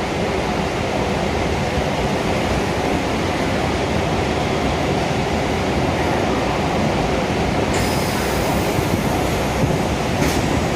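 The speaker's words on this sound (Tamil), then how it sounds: "இந்த ட்ரெயினை பயன்படுத்திட்டு இப்போ நம்ம வேளச்சேரி ரயில் நிலையத்தை நெருங்கி விட்டோம்" An MRTS suburban train running toward Velachery railway station in Chennai, a steady loud broadband rumble and rattle heard from on board throughout, with a brief hissing burst near the end and no voices.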